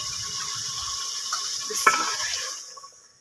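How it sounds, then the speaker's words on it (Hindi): Water being poured into a cooking pot for rice in a village kitchen, a close hissing gush with a brief clink of the vessel before it trails off to quiet. "लेकिन सबसे पहले डालेंगे जी हम पानी।"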